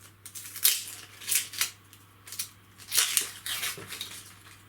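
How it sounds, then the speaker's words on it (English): The papery outer layer is being pulled off an onion by hand, producing soft crinkly tearing and crackling rustles in several short separate bursts, quiet and close. "Peel off the outer layer."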